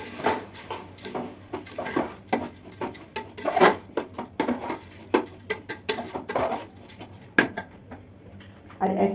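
Rice being added to a pot of tempered spices for paneer pulao and stirred, giving uneven scraping and rattling patter with spoon knocks, close and fairly loud.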